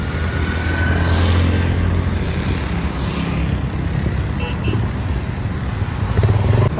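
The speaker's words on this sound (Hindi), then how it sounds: "मैं अपनी बाइक निकालने के लिए आया हूँ" A motorcycle engine runs loud and close, a continuous rough drone that rises slightly near the end as the bike pulls away, with no talking.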